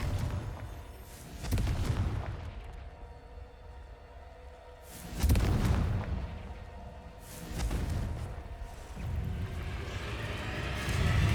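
Spell explosions in the video game Hogwarts Legacy, several deep booming blasts with whooshing tails spaced a couple of seconds apart, loud and alone without talk.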